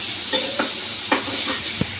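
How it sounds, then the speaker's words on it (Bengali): Tomatoes frying in a pan, a steady close hiss with a few spatula scrapes and stirring taps at irregular intervals. "আমার আম্মু টমেটো ভাজি করতেছে।"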